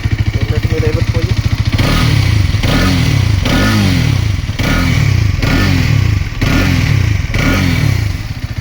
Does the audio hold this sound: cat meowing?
no